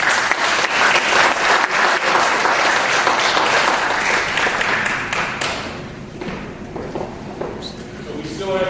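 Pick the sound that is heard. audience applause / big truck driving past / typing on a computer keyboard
audience applause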